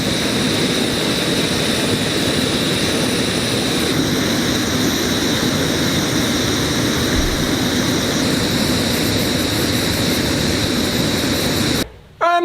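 A Redcamp canister stove burner roars with a steady, loud, broadband gas hiss and rumble that holds throughout, then cuts off abruptly near the end.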